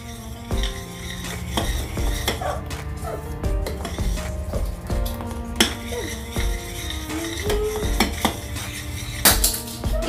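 Ice cream mixture stirred in a hot pot to cool it, with a spoon clinking and scraping against the metal in an irregular, busy rhythm, close and fairly loud, alone without talk.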